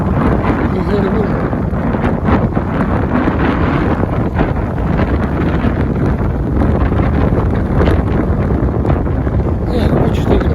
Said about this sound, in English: It's a bit windy up here. Back in this place. Can you hear the wind?